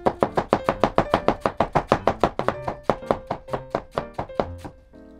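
A knife chops through the inner layers of a cabbage on a board in a steady, even rhythm of about twenty crisp thunks, close and clear, slowing slightly toward the end.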